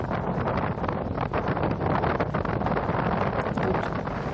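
Strong winds of Cyclone Tauktae in Gujarat, a loud, continuous roaring gust buffeting the microphone with dense broadband rushing noise throughout.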